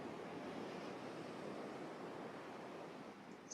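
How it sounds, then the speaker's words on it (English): Ocean surf rolling onto a shore, a steady broadband wash of waves that stays full and continuous throughout, with no distinct breaks or voices. "the waves are rolling up on my feet"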